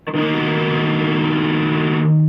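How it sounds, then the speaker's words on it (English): A single sustained full barre chord on a heavily distorted electric guitar rings out loud and thick for about two seconds, then cuts off. "it takes the power chords and just adds a little bit more by going to a full bar chord."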